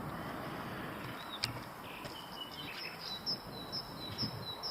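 A bird sings in repeated short, thin whistled phrases, moderately distant, in Kerpe, Turkey, over a low steady outdoor hum with occasional small clicks.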